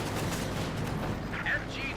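Soviet PTRS anti-tank rifles pound a Panzer IV in the video game Company of Heroes 2, a faint, continuous din of battle gunfire with no separate shots standing out.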